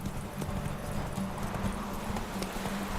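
Roach, the horse in the PS4 game Witcher 3, gallops in a steady, rapid clip-clop of hooves throughout, at a moderate level, with no speech.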